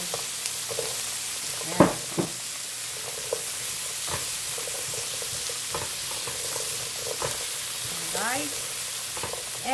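Potatoes and bay leaves sizzle in hot oil for chicken katsu curry, a steady close frying hiss broken by a few scrapes and clinks of stirring, with a brief spoken word from someone.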